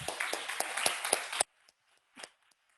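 Brief burst of clapping from a small group, ending abruptly, followed by near silence with a faint rustle.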